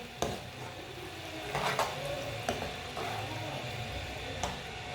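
A yogurt and onion curry, with garam masala and fresh coriander, sizzles steadily in a pan while a spoon stirs it, its scrapes and clinks landing at irregular moments over the close, even hiss.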